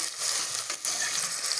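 Onions and tomato fry in a pan for a Karnataka-style ridge gourd (beerakaya) curry, giving a steady, close, continuous sizzle with faint stirring and no talking.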